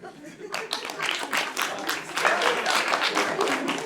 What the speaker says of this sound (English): round of applause to the Americans from Virginia